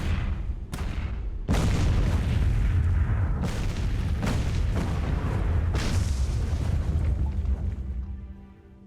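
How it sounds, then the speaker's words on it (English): Heavy artillery fire from an ordnance platform's big gun in the sci-fi RTS game Miner's Mettle: a series of loud, booming blasts with rumbling tails that overlap continuously, then fade out at the end. "Ordnance platform, aiming the big gun. Amp here, artillery ready."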